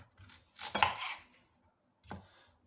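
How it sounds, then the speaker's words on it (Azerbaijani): A knife cuts through onion on a board in a home kitchen, two or three close, crisp chopping strokes with a pause between them and no talk. "İndi isə keçirik soğanımızı doğramağa."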